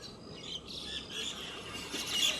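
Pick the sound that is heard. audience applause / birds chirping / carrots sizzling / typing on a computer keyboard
birds chirping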